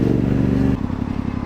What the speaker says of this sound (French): Oh, c'est quoi comme moto ça?